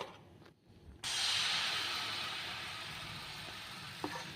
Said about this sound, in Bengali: তারপরে যে ব্যাটারটা ছিল ওই ব্যাটারটা পরিমাণ মতো নিয়ে প্যানের ওপরে দিয়ে দিতে হবে